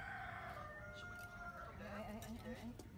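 A rooster crows at a pond-side fish farm with a couple of chickens nearby, its drawn-out call rising over steady outdoor background noise and some talk, moderately close.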